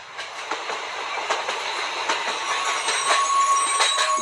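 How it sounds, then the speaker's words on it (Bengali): A train runs along the tracks with a continuous rolling roar, broken by repeated clicks and clacks of the wheels and a faint high squeal from them. "গুমায় যখন ট্রেনটা থামলো তখন সন্ধ্যা 7:15 বাজে"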